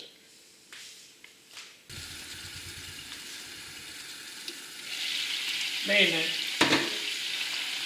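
Garlic clove, chili pepper and cherry tomatoes sizzling in a pan for pasta, a soft steady frying hiss that swells louder partway through, with a few utensil clicks and a brief spoken word.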